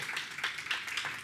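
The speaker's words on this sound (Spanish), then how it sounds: "Denle un aplauso al Señor." Church congregation clapping at an anniversary service, a brief burst of dense, steady applause from many hands in a reverberant room.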